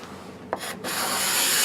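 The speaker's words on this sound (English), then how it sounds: "cleaning up some wood with a nice card scraper" A card scraper drawn across a wooden board gives a short scraping rub, a brief pause, then a steady, close, continuous shaving rasp that builds slightly in loudness.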